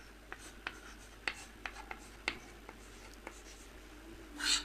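A pen writes out a Class 12 maths solution on relations and functions, giving a quiet series of crisp, irregular taps and short scratches, ending with a slightly longer rustling stroke.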